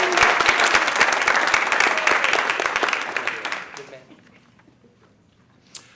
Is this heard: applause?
yes